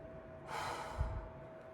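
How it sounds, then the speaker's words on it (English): A loud, breathy exhale from a person in a guided deep-breathing exercise, rising over about half a second and trailing off, close to the listener and heard alone. "Take a few deep breaths. Loud exhale."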